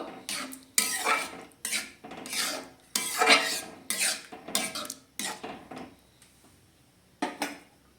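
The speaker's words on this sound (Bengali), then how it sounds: "দিয়ে এটাকে ভালোভাবে আমি নেড়ে চেড়ে দেবো।" Vegetable dal with cumin powder and garam masala stirred in a pot: intermittent metallic scrapes and clinks of a spoon against the pot in short bursts, close and moderately loud, with pauses between strokes.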